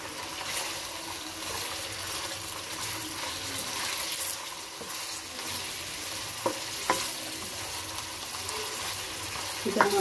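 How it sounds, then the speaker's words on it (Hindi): Chicken frying in a karahi pan for a restaurant-style Balochi karahi, with a steady sizzle and occasional stirring scrapes running throughout, close and moderately loud, plus a few brief clinks near the end. "चिकन हमारा फ्राई हो गया"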